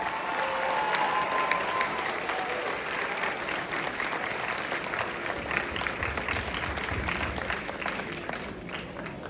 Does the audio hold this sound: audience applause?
yes